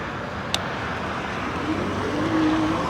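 A car approaches and passes an e-bike rider with a rising, steady road hum, growing slightly louder toward the end, over constant background noise.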